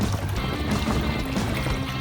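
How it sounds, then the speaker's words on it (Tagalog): A boat being paddled through clear water off Boracay on a windy day, giving a steady wash of water and low sloshing that carries on throughout, with no speech. "Ang bilis ni sir magsagwan."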